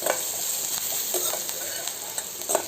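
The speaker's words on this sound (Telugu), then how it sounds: "యాడ్ చేసుకొని ఫ్రై చేసేసుకుందాం" Raw banana pieces frying in a pan with salt and turmeric in Andhra style, a steady close sizzle punctuated by repeated clinks and scrapes of stirring, no speech.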